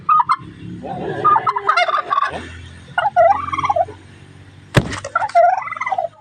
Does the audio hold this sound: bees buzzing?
no